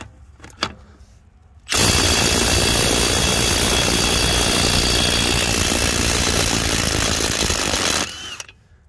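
Stubby cordless impact wrenches, a Milwaukee M18 and a DeWalt, work a one-inch lug nut: a few faint clicks, then a loud sustained rattling whir of hammering for about six seconds that stops abruptly.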